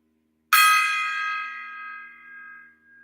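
A small gong-like bell is struck once, giving a bright, loud ding with a long ringing tail that slowly fades out over a few seconds.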